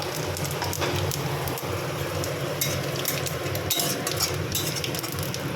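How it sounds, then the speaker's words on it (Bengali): Cumin seeds and chili tempering in hot oil for a duck egg curry make a dense, continuous crackling sizzle, close and fairly loud, with sharper spits popping out now and then. "এর মধ্যে একটু জিরে আর লঙ্কা ফোড়ন দেবো"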